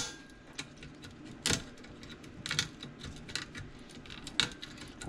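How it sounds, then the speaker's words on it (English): Wire cutters snipping a chip off a salvaged radar detector or marine radio circuit board, heard as a few sharp, close clicks and snaps spread over several seconds with no talking. "We will try to cut it with our wire cutters"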